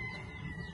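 A hen clucks in a short, close burst of low, throaty notes, with no talking over it.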